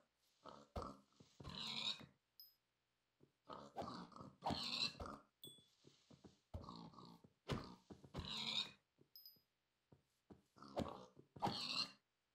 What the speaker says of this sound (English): I'm able to kill these pigs without too much issue.